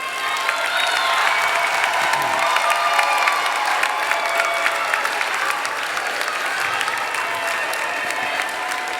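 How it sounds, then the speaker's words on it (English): Loud, sustained applause from a large crowd at a university commencement ceremony honouring graduates' families, dense continuous clapping with faint cheering mixed in, holding steady for nine seconds. "give them the applause they so deserve"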